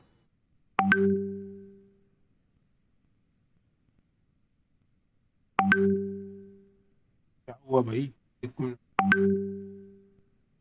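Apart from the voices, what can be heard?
phone message notification chime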